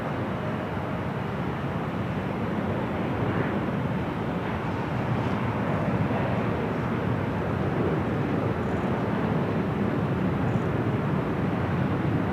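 Broadband jet roar of a Delta airliner on its takeoff run from runway 24 left at LAX, a steady, dense rumble held at a constant level for the whole stretch with no voices over it.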